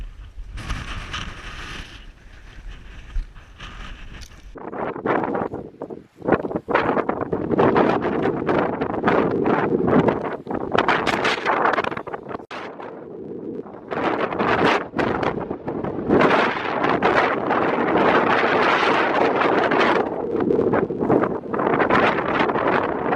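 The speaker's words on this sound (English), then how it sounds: "Bit windy, lad." Strong gusts buffet the microphone on Mount Snowdon, loud roaring blasts rising and falling in bursts after a quieter, rustling opening.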